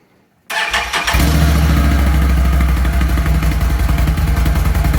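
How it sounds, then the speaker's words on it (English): Renegade 1000 V-twin engine on its stock exhaust cranking and firing up after a brief silence, then settling into a loud, steady, throaty rumble close to the microphone. "I'm going to give you a little startup of the stock exhaust so you hear the difference between that and the Yoshimura"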